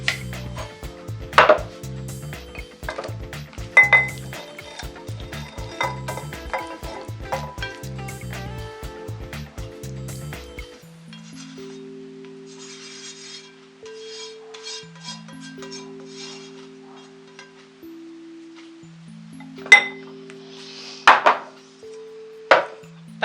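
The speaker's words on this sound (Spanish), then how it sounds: "Voy a quitar las manzanas de la sartén." Cooked apple slices knocked and lifted out of a frying pan while making a skillet apple tart, giving sharp utensil clacks against the pan in a busy rhythmic run at first, then sparse louder knocks over quiet background music.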